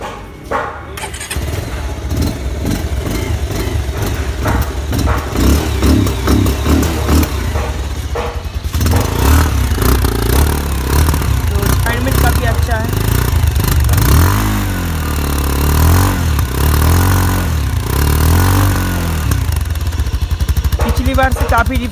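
A 2019 Bajaj Pulsar 220F motorcycle engine starts, then idles and is revved repeatedly in loud, close bursts for about twenty seconds, with some talk heard alongside.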